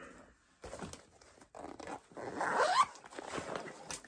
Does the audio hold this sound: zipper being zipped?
yes